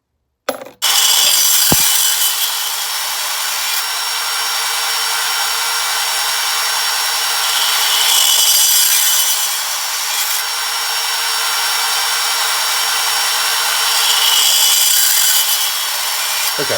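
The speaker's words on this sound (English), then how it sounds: "Okay, so that gets all the cases cut on the bandsaw." A bandsaw with a 24-tooth blade cuts nickel-plated .223 Rem brass cases, a loud continuous grinding whine that holds steady for many seconds, swelling slightly as each cut bites, close and without talk.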